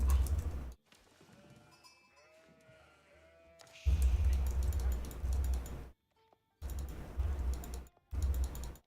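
Sheep bleat in an Age of Empires strategy game, several short, high, wavering animal calls over quiet game ambience, followed by bursts of loud, busy in-game noise broken by brief silences.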